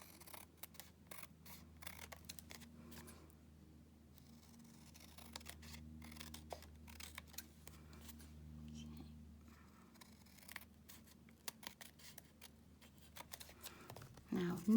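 Scissors snipping paper for a rubber-stamped card, trimming right along the very edge and working all the way around, a quiet run of short, crisp cuts and rustles close by with a low hum underneath.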